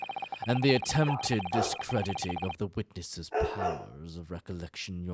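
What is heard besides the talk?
dog barking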